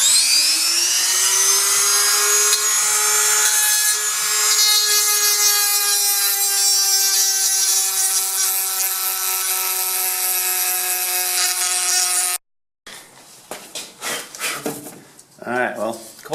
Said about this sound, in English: So I'm breaking out my Dremel.